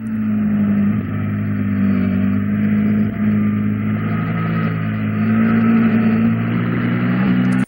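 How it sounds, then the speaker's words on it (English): A car engine drones loud and steady, its revs rising and easing as the driver feeds the throttle on and off through corners, with no talk over it. "just listen to the throttle as well, consistency-wise"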